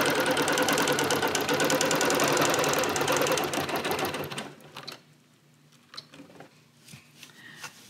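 A Bernina Q24 longarm quilting machine stitching, a loud fast mechanical chatter that runs steadily for about four seconds, then stops, leaving quiet handling clicks and small knocks.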